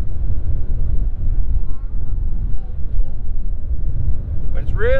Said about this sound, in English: But it's really, really windy today.